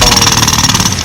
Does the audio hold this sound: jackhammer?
yes